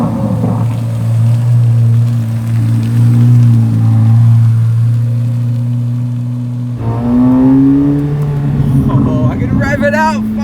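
A Chevrolet Corvette C8 Z06 engine roars under sustained heavy throttle, loud and droning from inside the car, then drops briefly and climbs again, with people talking over it.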